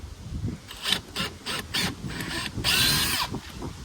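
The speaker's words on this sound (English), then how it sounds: "Drill some pilot holes." A power drill whirring nearby in several short bursts, followed by a longer, louder run as it bores pilot holes during a sundeck makeover.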